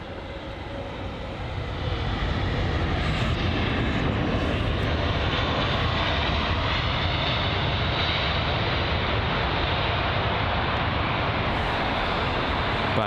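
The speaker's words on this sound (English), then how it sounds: "Here's a Scandinavian A320neo." Scandinavian Airlines A320neo jet at London Heathrow, a broad steady engine roar that swells after the first couple of seconds and holds at a moderate distance.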